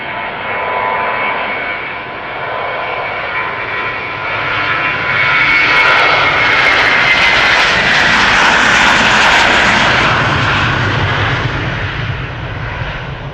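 A six-year-old Airbus A321 takes off from Schiphol Airport for Helsinki, its loud, close jet roar building with a rising whine and crackling thrust that peaks past the middle before easing slightly.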